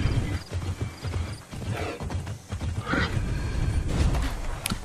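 Horse hooves clip-clopping in Immortals Fenyx Rising, a steady run of close hoofbeats mixed with several neighs and whinnies.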